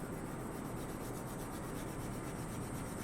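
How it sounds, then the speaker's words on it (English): Dry polishing compound being rubbed onto a leather paddle strop for knife sharpening gives a soft, continuous scratchy friction sound, close and quiet with no talking. "simply to rub the compound on dry onto the dry leather, like this"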